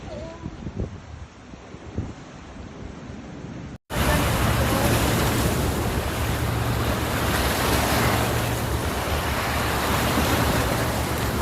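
Ocean waves wash onto a seashore near a dark cave, a quiet lapping at first, then after a short cutoff a loud, steady roar of surf mixed with wind buffeting the microphone.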